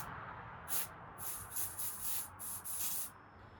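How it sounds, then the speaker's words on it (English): Carb cleaner sprayed from an aerosol can in a series of short hissing bursts, some brief and some longer, close and fairly clear over a quiet background. "Got a little bit of carb cleaner here."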